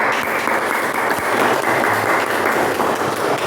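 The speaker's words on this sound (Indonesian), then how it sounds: "tepuk tangan semuanya" A class of schoolchildren in a primary school classroom applauding together, a loud dense burst of clapping that stays steady throughout with no break.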